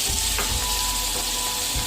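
Ground spices and four medium tomatoes frying in a pot for beef yakhni pulao, giving a steady, fairly loud sizzle with faint stirring knocks and no speech.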